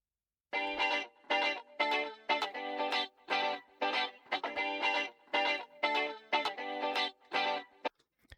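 Electric guitar part from the B section of the track, heavily processed with distortion and chorus, playing short, chopped, repeated notes in a tight rhythmic pattern, loud and alone.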